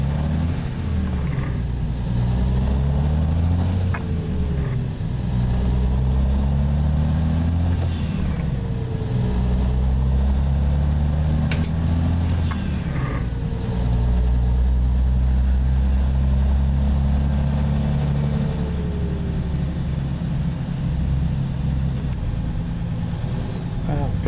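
A Cajun Express Powerliner truck with a KTA 19 litre engine hauls a heavy load in American Truck Simulator, its deep diesel drone climbing and dropping through gear shifts with air brake hisses, running loud and continuous from start to finish.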